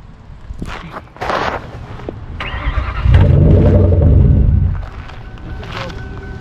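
A Lincoln Continental with a 4.6-litre V8 cranks and fires up, the engine catching into a loud rumbling idle that swells then settles, preceded by movement and clunks nearby.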